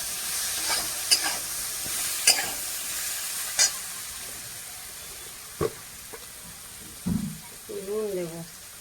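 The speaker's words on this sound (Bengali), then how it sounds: "এই আলুগুলো ঢেলে দিলাম" Potatoes fry in a pan with a steady low sizzle while being stirred, sharp utensil scrapes and clinks standing out at intervals. A voice speaks briefly toward the end.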